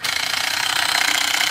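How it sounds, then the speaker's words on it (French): A small electric series-wound motor runs steadily in a physics demonstration setup, giving a continuous, even whine with a bright hiss and no breaks, close and fairly loud. "Le petit moteur tourne."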